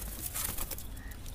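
Domestic pigeons kept as a hobby coo faintly in a low murmur, with a few soft wing flutters and outdoor background noise, no talk.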